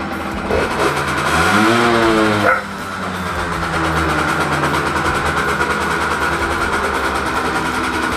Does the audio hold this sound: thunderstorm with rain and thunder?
no